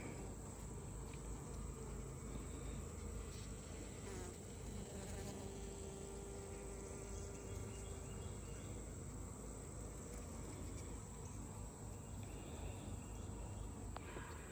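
Honeybees swarm and buzz steadily around a hive box at day's end, a dense continuous drone close by that never lets up, with no talking.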